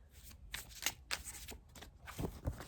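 Tarot cards shuffled by hand close up, a series of quick riffling flutters and soft slaps in uneven bursts, quiet and without speech.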